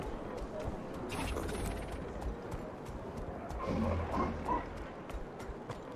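Horse hoofbeats from riding a mount in Guild Wars 2 around the city of Divinity's Reach clop steadily in a rhythmic gait, moderately loud over a busy game ambience, with a brief louder thump near the end.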